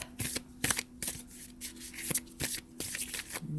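Tarot cards are shuffled by hand in quick, riffling rustles and soft slaps, repeated steadily at close range over a faint steady hum, with no talk.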